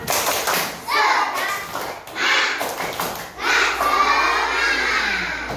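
Schoolchildren in a classroom chanting and clapping a tepuk semangat cheer together, loud bursts of shouted voices and claps in several rhythmic waves, close and lively.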